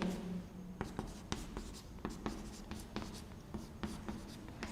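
Pen or chalk writing out matrix rows during a Class 12 maths lesson, a steady series of short scratchy strokes and taps with brief pauses, close and fairly quiet with no talk over it.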